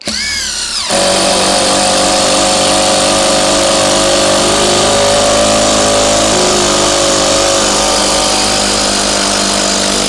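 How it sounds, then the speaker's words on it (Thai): A Tigron cordless impact screwdriver with an ABS plastic body drives a screw, starting with a brief clatter and then a loud, continuous whirring buzz close to the microphone for about nine seconds, with no one talking. "ก็ใช้ขันไขควงให้ดู ลองดูนะครับ"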